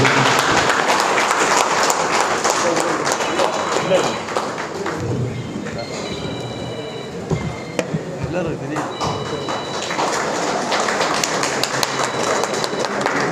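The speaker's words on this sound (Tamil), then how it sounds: "அனைவரும் எழுந்து நின்று அவரை கைதட்டி பாராட்டுகிறது" Audience rising to its feet and clapping at an INTUC trade union general council meeting in Tirunelveli: dense, sustained applause that runs steadily through the whole stretch, with voices mixed in.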